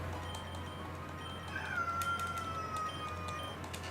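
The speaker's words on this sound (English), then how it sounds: "That was such a loud meow." A cat gives a single loud, drawn-out meow that rises and then slides down, heard over a steady low hum and faint background sounds.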